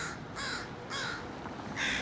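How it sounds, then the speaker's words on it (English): A murder of crows caws on a street in Seattle's U-District, four loud harsh calls coming in separate bursts with short gaps between them, fairly close, over a low outdoor background. "Uh-oh, we found the murder of crows."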